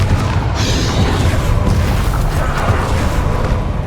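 A Confringo fire spell explodes in Hogwarts Legacy during a dragon fight, a loud, sustained roaring boom that fills the whole moment with dense rumbling.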